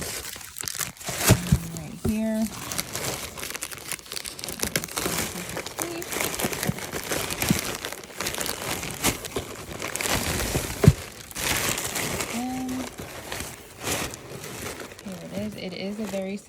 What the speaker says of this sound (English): this is like black gift wrapping paper